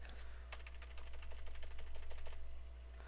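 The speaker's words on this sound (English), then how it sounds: "Every time I'm pressing that keyboard" Computer keyboard keys pressed during a Blender game engine programming session, a quick run of light clicks in close succession over a low steady hum, quiet and near.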